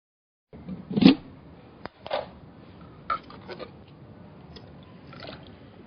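A garden hose is pushed down into a swimming pool to fill it with water during sand filter maintenance. Faint, sparse water sounds come through as scattered squishes, drips and clicks over near silence, with no talk.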